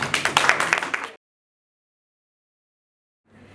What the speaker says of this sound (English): So let's give a round of applause to our Linda.